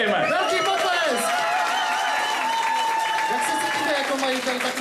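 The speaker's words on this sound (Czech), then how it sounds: "Zatleskejme. Velký potlesk!" A concert audience applauds in a sustained, dense wash of clapping that fills the room, while voices in the crowd call out over it for the full length.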